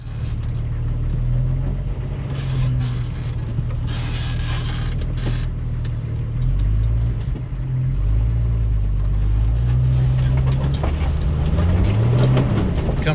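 A four-wheel-drive vehicle climbs a steep dirt hill near the Mulberry River in the Ozark National Forest, its engine a loud, close, continuous rumble that shifts pitch as it strains, with occasional creaks and rattles.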